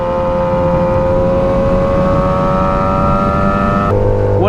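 A 2007 Yamaha R6 sport motorcycle with a full exhaust and Power Commander 5 revs loud and close, its engine note climbing steadily in pitch for several seconds before abruptly dropping.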